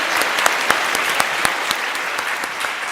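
A television game show studio audience applauds steadily with dense clapping and a few sharper individual claps standing out, loud and sustained throughout.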